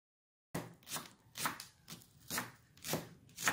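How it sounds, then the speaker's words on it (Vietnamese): Knife chopping leeks on a cutting board, about seven crisp, evenly spaced cuts close up, with no talking. "đi cắt nhỏ một ít hành bo rô"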